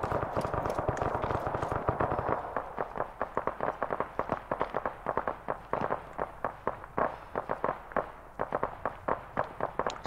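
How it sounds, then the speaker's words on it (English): Rapid gunfire during a firefight in the mountains of Afghanistan, with a dense burst of shots for the first two seconds followed by a steady run of sharp, evenly spaced reports. "And now they're shooting all the ANA inside."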